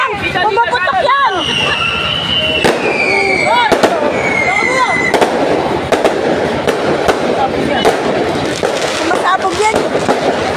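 New Year's fireworks and firecrackers go off in sharp repeated bangs, with whistling rockets rising, amid a busy outdoor crowd and people shouting nearby.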